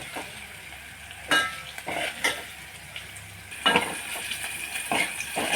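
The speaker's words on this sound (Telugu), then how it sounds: "మంచిగా వేంపుకోవాలి." Tamarind rasam base with a little turmeric fries in a pan, a soft sizzle broken by several sharp scrapes and clinks of a spoon stirring against the metal, nearby and without speech.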